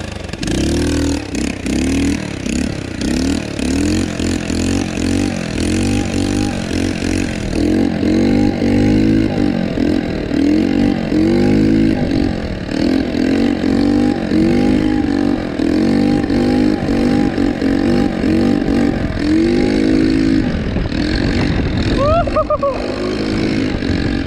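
A light scooter's engine revs loudly on its first ride after a carburetor swap, its pitch rising and falling in steady surges across the run, with voices occasionally audible over it.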